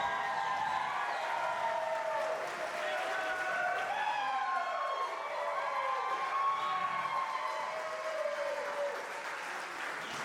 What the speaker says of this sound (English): round of applause for the bride and groom, Haley and Patrick.